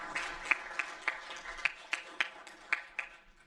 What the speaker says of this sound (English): So if you could please clap your hands for them